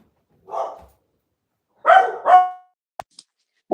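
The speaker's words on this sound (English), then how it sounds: "I don't know what they're barking at. They bark all the time." Dogs barking at a home, a few separate bursts of barks with gaps of silence between them, fairly close and moderately loud, plus a couple of short clicks near the end.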